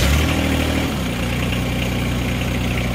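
A John Deere 1025R tractor engine cranks and catches, then settles into a steady, loud, rumbling idle close by, with nobody talking.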